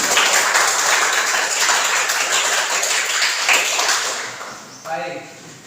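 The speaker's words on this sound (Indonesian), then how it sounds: "Tepuk tangan untuk" A classroom applauds a student group that has just finished presenting: a dense, steady wash of clapping that fades out near the end.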